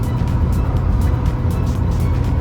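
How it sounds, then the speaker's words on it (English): A Ford Super Duty pickup with a fresh engine, heavily loaded while pulling a double-stacker trailer, accelerates in gear under boost. It gives a steady, loud, close low-end engine drone with road rumble throughout, and no talking. "You just build some boost, lock it in, hold it in the gear, just let it accelerate."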